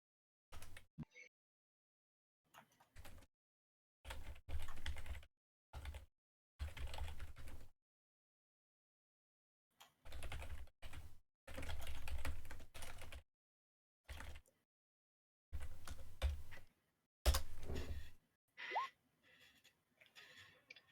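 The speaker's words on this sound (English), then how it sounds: "I'm just typing in the details for it for you." Bursts of computer keyboard typing arrive in irregular clusters separated by silent gaps, close and moderately loud, with no talking over them.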